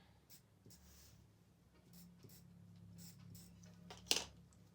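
Pen or marker drawn in short strokes across fabric to mark hash lines for a zip placement on a bow clutch, a quiet scratchy scribbling close up with a sharper tap near the end.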